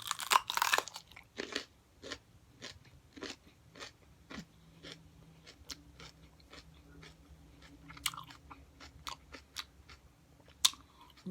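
Close-up crunching and chewing of a very hot pepper, with repeated sharp bites and wet mastication in an irregular rhythm, loud and near, with no talking.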